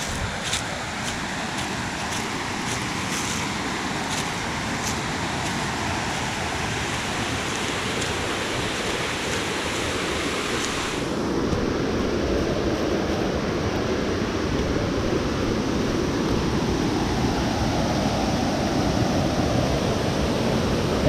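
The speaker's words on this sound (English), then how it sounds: "Crow Creek Falls in the backcountry." Crow Creek Falls in the backcountry pours in a constant broadband roar of falling water, loud and unbroken throughout, growing fuller and closer partway through.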